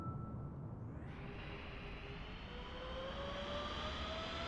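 A jet engine spooling up in Microsoft Flight Simulator, a rising whine climbing steadily over a constant low rumble, distant and faint, with no voices.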